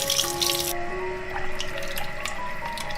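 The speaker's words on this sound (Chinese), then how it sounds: "用清水浸泡一下，去掉血水，" Water running into a bowl to soak beef short ribs, a steady close splashing stream with a brighter gush at the start and a continuous watery wash throughout.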